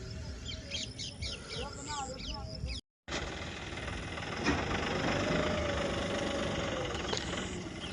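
Birds chirp briefly beside a canal, then a tractor engine runs with a steady, rumbling drone that continues to the end, close by and fairly loud.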